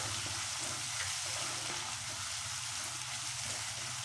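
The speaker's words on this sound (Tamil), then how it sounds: "இந்த எண்ணெயில் வதக்கினாலே இந்த நெல்லிக்காய் வெந்துடும்." Indian gooseberries (amla) sautéing in oil in a pan for gooseberry rice, giving a steady, soft, continuous sizzle with faint stirring, heard alone at an even low level throughout.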